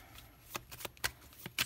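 Playing cards being laid onto a pile during a tarot reading, producing a string of soft, quick slaps and flicks, close and fairly quiet.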